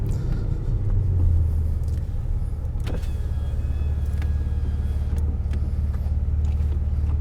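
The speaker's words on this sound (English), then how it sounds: "Just sat still in this car, hearing that big old engine purring away." An Alfa Romeo 147 GTA's Busso V6 engine idles with a deep, steady rumble, close by, with occasional faint clicks from inside the cabin.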